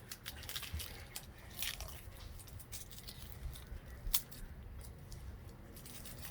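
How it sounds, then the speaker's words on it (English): Dry papery crackles and small snaps as a garlic bulb is pulled apart into individual cloves, close and quiet, with a few sharper crisp bursts between softer rustling. "Separating the individual cloves there, the very outside of it"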